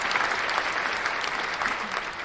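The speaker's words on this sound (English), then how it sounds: "Round of applause for that too." A short burst of applause during a podcast, steady clapping from several people throughout, fairly close and even in loudness.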